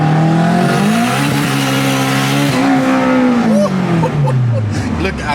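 An Acura Integra GS-R with all-wheel drive accelerating hard under boost, the engine note climbing steadily in pitch, then dropping as it shifts and pulls again, loud and close from inside the car.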